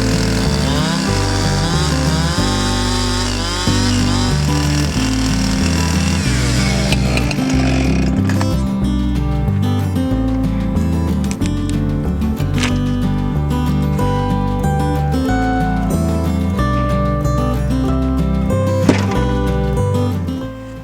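A chainsaw cuts a slab from a white oak log on a sawmill, its loud, close engine snarling steadily and shifting pitch as the cut progresses, then easing off near the end.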